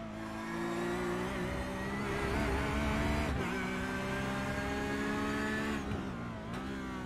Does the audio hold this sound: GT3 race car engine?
yes